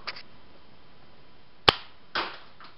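A K'NEX pinwheel toy rifle-pistol fires a single sharp snap near the middle, followed by a softer rattling clack as the mechanism resets, with faint clicks at the start and end.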